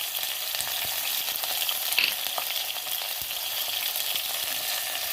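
Small onions and garlic sautéing in a pan for a mutton kuzhambu, giving a steady, close, bright sizzle with soft stirring clicks and no talking.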